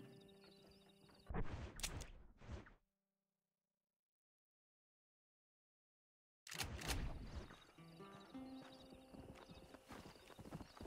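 A horse arrives in a video game, hooves clip-clopping loudly nearby with a whinny, then a long silent stretch before galloping and hoof clatter return amid game sounds.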